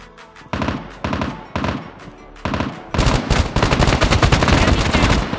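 Gunfire in COD Mobile battle royale: repeated loud bursts of automatic shots in short volleys, then a dense sustained stretch of rapid fire, close and with no talk.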